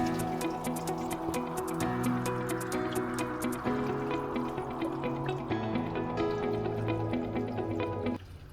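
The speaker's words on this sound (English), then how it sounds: "So the next thing is we're going to add our water," Room temperature water is poured into a mixture of chia seeds, cucumber, lemon and orange, giving a fairly quiet continuous filling trickle with faint drips, which cuts off near the end.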